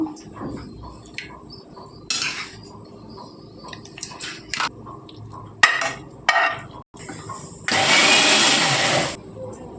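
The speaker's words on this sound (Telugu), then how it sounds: "పచ్చడి కూడా ప్రిపేర్ గ్రైండ్ చేసుకుందాము మిక్సీ జార్లో వేసుకుందాము" A mixer grinder briefly whirs at the end as tomato coriander chutney is blended in the jar, after several clinks and knocks of the jar and utensils, close by; faint voices murmur in the background.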